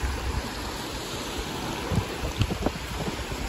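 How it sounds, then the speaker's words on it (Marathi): Arabian Sea waves at rising tide wash near a sea fort, with low, irregular surges and splashes under steady wind buffeting the microphone. "हा आहे अरबी समुद्र। आता भरती येते पाण्याला"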